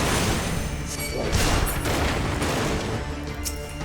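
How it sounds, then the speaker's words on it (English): Dense, overlapping explosions from a Final Fantasy XIV raid fill the scene with a continuous rumbling barrage, punctuated by brighter bursts and cracks, loud and unbroken throughout. "All I see are giant explosions covering my entire screen."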